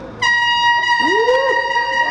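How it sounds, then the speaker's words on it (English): A loud, sustained air horn blast at a college commencement ceremony starts abruptly and holds steady, with a brief voice-like swoop rising underneath midway through. "So let's hear the air horn one more time."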